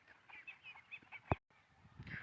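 Khaki Campbell ducks on a duck farm give faint, scattered calls and quacks, mixed with soft farmyard background and one sharp knock. They sound distant and quiet, with no talk.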